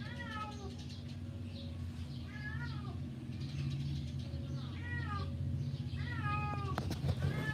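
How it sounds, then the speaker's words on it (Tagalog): A cat meows repeatedly in short rising and falling calls, fairly close, with a steady low hum and distant traffic underneath and a sharp clatter near the end. "Tapos yung pusa ay nanligalig oh."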